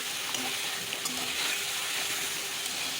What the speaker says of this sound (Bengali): মশলাটা আমি একটু কষিয়ে নিয়ে এখন ভেজে রাখা নাজনে ডাটা ও আলুটা দিয়ে দিচ্ছি